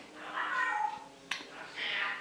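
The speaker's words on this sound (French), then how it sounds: "Elle miaule." A cat meows twice, drawn-out cries close by, with a short click between them in a quiet indoor room.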